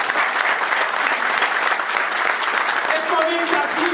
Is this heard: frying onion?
no